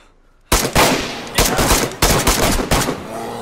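Sniper rifle shots at a bear in the video game DayZ, four loud sharp blasts spaced roughly evenly over a few seconds, each with a short ringing tail, following a brief quiet moment.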